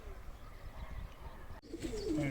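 A fancier's purebred pigeons cooing nearby in Vlorë, Albania, soft low coos rising over a murmur of background noise.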